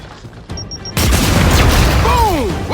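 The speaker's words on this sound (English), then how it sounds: "keep your head down and blind toss the grenade" A grenade blind-tossed from cover explodes in Gears of War 5, a sudden loud boom after a few faint high beeps, followed by a rumbling, debris-filled tail with whistling game effects.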